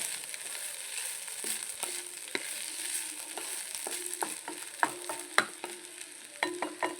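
A spoon stirs potato and lentil curry frying in a pan, with steady sizzling throughout and irregular scraping strokes and clacks against the pan, close and moderately loud.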